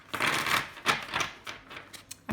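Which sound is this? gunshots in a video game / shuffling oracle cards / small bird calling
shuffling oracle cards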